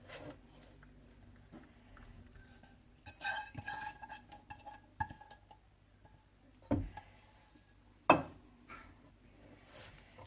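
A spoon stirs sugar syrup into a gond laddu mixture, making scattered scraping and clinking knocks against the pot, with a few sharper clanks standing out over a quiet background and no voices.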